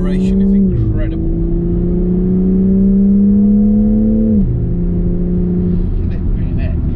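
A BMW M3 Competition Touring xDrive accelerates hard in comfort mode, its engine note rising in tone through the gears with a shift drop between, heard from inside the cabin under continuous talk.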